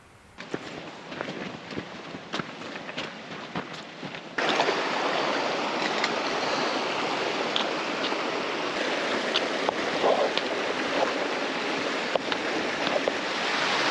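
Steady rushing water of a creek drainage in the Alaskan backcountry fills the clip, growing louder partway through, with a few faint knocks and footsteps of hikers.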